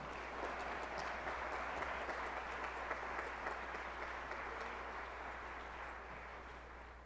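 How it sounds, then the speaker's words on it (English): A ceremony audience gives honorees a sustained round of applause, dense and even clapping filling the room before slowly tapering. "Please join me in a round of applause for this group."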